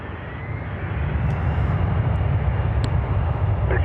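Airliner engines roar steadily at Toronto Pearson airport, a broad rumbling wash that builds louder over a few seconds, heard from a distance with faint brief clicks.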